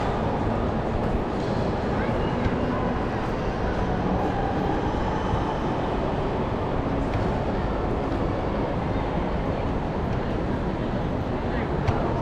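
A Singapore MRT train rumbles past with a steady, continuous roar of wheels and carriages, while voices talk faintly underneath.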